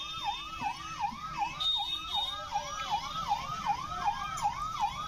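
Fire brigade vehicles sound their sirens at a blazing fire in Moradabad, a steady wailing yelp that rises and falls in quick repeated cycles, moderately loud and carrying over low street noise.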